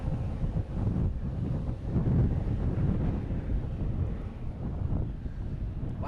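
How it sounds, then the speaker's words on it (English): Gusty wind buffeting a microphone at an airport plane-spotting spot, a loud low rumbling roar that swells and eases continuously. "Wow, it's getting really gusty up here."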